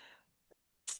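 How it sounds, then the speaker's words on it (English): A single person sneezes close by, a short sharp burst at the end after a faint breath and a small catch, in a quiet room. "I'm going to sneeze."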